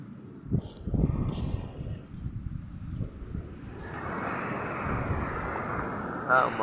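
Wind blowing by the sea on a cloudy, gray day near a moored boat, rising into a steady broad rushing roar against the microphone after a voice speaks briefly at the start.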